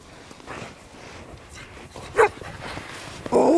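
Puppies in a cabin in snowy Montana give a few short, sharp barks and yips, with one louder bark midway and another at the end over low background noise.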